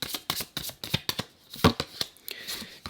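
A deck of tarot cards is shuffled by hand, with close, crisp riffles and flicks in quick irregular bursts and short pauses between them.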